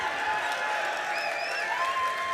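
A live audience in a theater at an esports match claps and cheers in a dense, sustained wash of applause, with scattered whoops rising above it.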